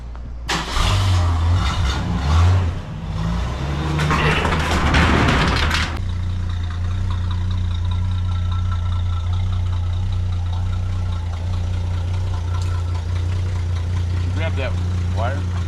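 A 1978 Mercury car engine cranks and catches after a few seconds of starter churn, then settles into a steady, rumbling idle up close, with people talking over the start.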